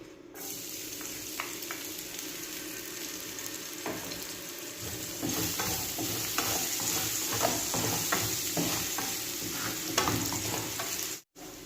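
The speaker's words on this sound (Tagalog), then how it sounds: "Dito sa ating pinagprituhan ng isda, dito na rin tayo maggigisa. Lagyan natin ng garlic." Garlic sautés in leftover fish-frying oil for a Filipino coconut-milk salmon dish, a steady close sizzle with repeated scraping and stirring clicks, growing louder midway, with no talk.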